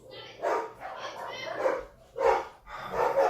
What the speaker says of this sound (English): I'll wait till the dogs start barking.